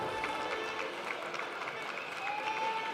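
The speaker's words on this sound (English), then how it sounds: "You can hear the crowd cheering her on." Crowd at the Austrian Throwdown 2024 fitness competition finals cheering on a female athlete, a steady wash of distant cheering and clapping with faint whistles in the background.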